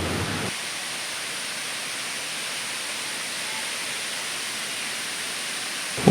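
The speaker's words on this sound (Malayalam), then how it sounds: "എന്താ വെള്ളച്ചാട്ടത്തിൻ്റെ കാഴ്ച നോക്കിക്കേ. ഇങ്ങനെ നിരന്ന് വെള്ളം വീഴുന്ന ഒരു കാഴ്ച" Anayadikuthu waterfall near Thodupuzha sends down a broad sheet of water, a steady dense hiss that stays even and unbroken throughout, with no voices.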